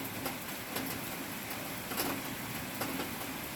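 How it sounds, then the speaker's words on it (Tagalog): Steady heavy rain falling outdoors during a storm, a continuous dense hiss with faint scattered taps on top. "ngayon lumakas na yung ulan"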